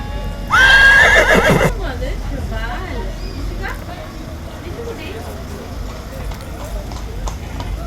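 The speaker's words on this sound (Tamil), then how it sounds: "அரேபிய குதிரை." An Arabian horse at a park gives a loud, close, drawn-out whinny that lasts about a second. Quieter hoof clops and a background murmur of voices follow.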